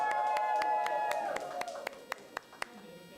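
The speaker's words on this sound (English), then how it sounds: "A better round of applause than that." A handful of sharp, scattered handclaps ring out, sparse and uneven, with a voice speaking briefly at the start.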